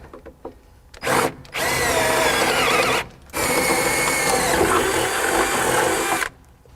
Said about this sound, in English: we're going to drill out these two corresponding holes